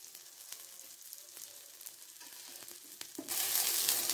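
A chickpea pancake fries in oil with a steady crackling sizzle and scattered pops, swelling louder near the end; no talk.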